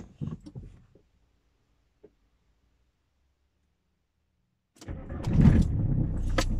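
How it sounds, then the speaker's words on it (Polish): A Volkswagen Passat B4 engine cranking but failing to start: a brief low whir and clicks at first, near silence, then a loud, rough starter grind that continues to the end, close by with no talk. "Uuu, nie odpala."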